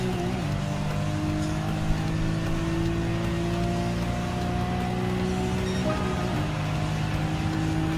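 A BMW M3 race car in Gran Turismo 7 holds a loud, steady engine drone at full speed on a lap, its pitch climbing gradually and dipping briefly at a gear change, with no one talking.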